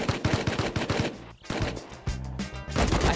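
AK rifle gunfire in the video game Rust, rapid loud bursts of automatic shots in quick rhythm, a short pause, then more close volleys.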